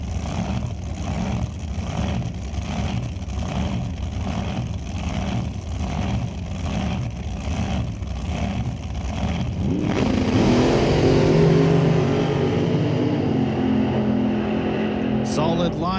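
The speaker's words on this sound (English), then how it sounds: "Solid launch for both drivers." Drag racing cars, including a dragster, launch off the starting line at a raceway, engines roaring and revving loudly, then the sound opens into a broad, fading roar as they pull away down the track.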